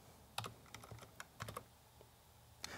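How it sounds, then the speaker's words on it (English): Typing on a computer keyboard at a desk: a quiet, irregular run of light key clicks in small clusters, with a final tap after a short pause and no voices. "and I will type Veeam."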